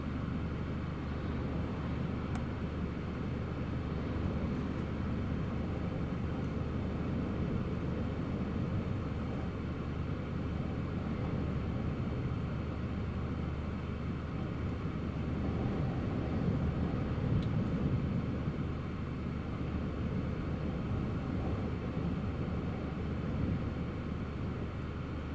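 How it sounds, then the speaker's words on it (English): A KLM Embraer E2 from Amsterdam comes in to land at Newcastle Airport during a storm, a distant, steady jet roar blended with heavy wind noise, continuous and without talk. "Just about to try and land here at Newcastle."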